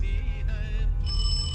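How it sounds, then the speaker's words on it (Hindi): An old telephone bell rings in a room, a steady electronic trilling tone that shifts pitch partway through, sounding alone over a low background hum. "अचानक टेलीफोन की घंटी बजी।"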